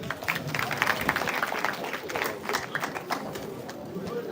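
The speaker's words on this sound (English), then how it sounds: "So, clap for them." An audience claps for performers at a live gathering, a scattered, uneven patter of hands with some stronger bursts, mixed with background crowd noise and occasional voices.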